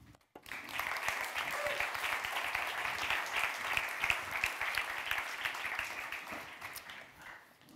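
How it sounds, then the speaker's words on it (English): A conference audience bursts into sustained applause, loud and continuous for several seconds before tapering slightly at the end. "please show a warm round of applause"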